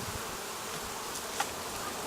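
Honey bees buzzing around an opened hive box full of honey, as a steady, close swarm hum with no voices.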